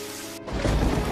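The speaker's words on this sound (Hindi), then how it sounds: "इतनी तेज बारिश" Heavy rain pours down in a cold-weather storm, a steady loud hiss of dense drops filling the air without any voices.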